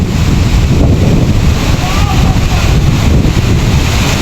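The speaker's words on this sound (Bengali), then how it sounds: "ঝর্নার পানি" Nanglak waterfall pouring water from a height, a loud continuous low roar of falling water buffeted by heavy wind noise on the microphone.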